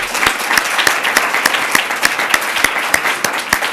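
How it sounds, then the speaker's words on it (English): A seated audience at a Duke Law leadership event in 2007 gives a full, even round of applause, with dense, continuous clapping up close and no voices over it. "I'd like to just have one more round of applause for our main organizer"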